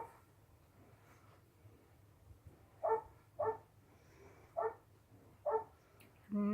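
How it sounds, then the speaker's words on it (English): A dog barks faintly in the distance, five short separate barks spaced about half a second to a second apart, over a low steady indoor hum. "No idea what the dog's barking at."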